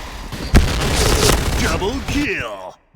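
A G36 rifle fires in the Point Blank video game, a loud crack followed by rapid bursts of gunfire, with someone speaking over the shots before the sound cuts off abruptly.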